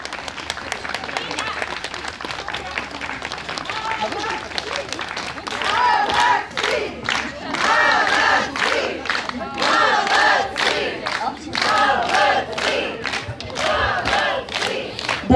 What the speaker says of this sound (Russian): Итак, поаплодируйте нашему дизайнеру.